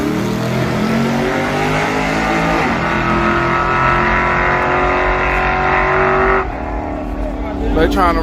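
Chevrolet Caprice drag car engine at a no prep grudge race, loud and close, with sustained revving and rising, shifting pitch before a sudden drop near the end, while people talk over it.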